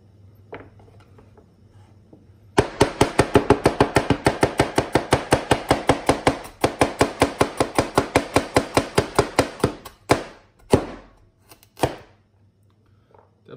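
Vegetables chopped on a board with a heavy cleaver-style knife like Li Ziqi's: a fast, steady run of loud, close knocks for several seconds, then a short pause, a second rapid burst, and a few slower, separate chops at the end.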